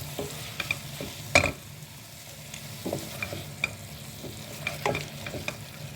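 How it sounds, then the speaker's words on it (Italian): Guanciale, shallot, garlic and a pinch of chili sizzle steadily in a pan, with a soft continuous fry broken by a few brief stirring scrapes and clicks, close and moderately loud, no voices. "ho aggiunto lo scalogno, l'aglio, una puntina di peperoncino, faccio rosolare."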